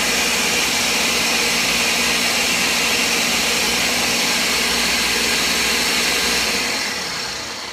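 A kitchen blender runs loud and steady, blending coconut for homemade coconut milk, a dense whirring roar that holds constant before starting to wind down at the very end.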